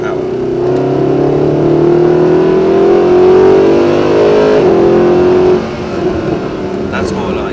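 A car accelerates hard on a cone driving course, its engine loud and near, revving upward in a sustained climb before the note drops off as the throttle eases, with a voice speaking over it.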